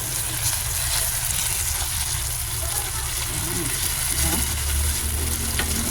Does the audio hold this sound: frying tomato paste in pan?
yes